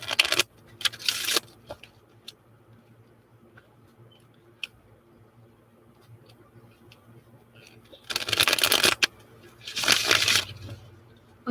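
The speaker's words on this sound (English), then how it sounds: "Okay, so my deck is shuffled." A deck of tarot cards is shuffled in quick riffling bursts near the start and again toward the end, with soft handling clicks and a quiet room hum in between.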